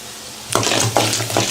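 Urad and chana dal frying in oil with mustard seeds in a kadai, a close steady sizzle with three distinct scraping stirs of the spoon against the pan.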